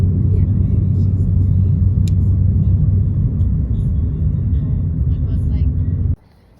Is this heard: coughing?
no